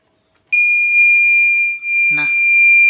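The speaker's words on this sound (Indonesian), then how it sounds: "Nah, bisa dilihat buzzer aktif dan LED menyala." A gas leak detector's electronic buzzer, set off by gas from a lighter, sounds a loud, steady high-pitched double tone that starts abruptly and holds continuously, with a brief burst of a voice partway through.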